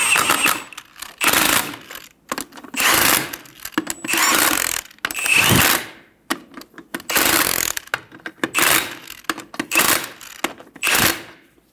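Bolts on a 2000-2007 Ford Focus front strut being snugged down with a ratchet, heard up close as repeated bursts of rapid mechanical clicking separated by short pauses.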